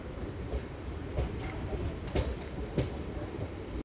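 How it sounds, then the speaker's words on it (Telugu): A Vande Bharat high-speed train rushes past a moving MEMU local near Duggirala station between Tenali and Vijayawada: a loud, continuous rumble with rhythmic wheel clacks and brief metallic squeals, cut off by a sharp burst at the end. "ఇప్పుడు వస్తుంది చూడండి మన హై స్పీడ్ వందే భారత్."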